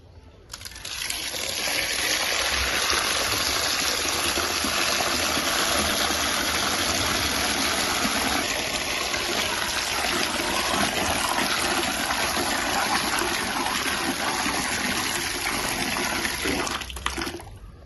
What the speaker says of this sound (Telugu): ఇది ఇప్పుడు కడుక్కుందాం మనం వాటర్ వదిలి